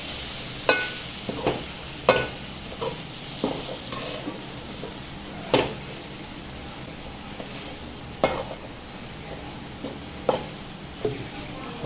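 A spoon scrapes and taps against a frying pan at irregular intervals while masala and soya chunks sizzle softly underneath.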